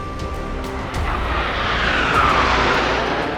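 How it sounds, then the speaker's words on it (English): Indian Air Force Surya Kiran aerobatic team aircraft fly overhead, a broad jet roar that swells and builds steadily across a few seconds, moderately distant, with no talking. "This, ladies and gentlemen, is the Indian Air Force's Surya Kiran aerobatic team."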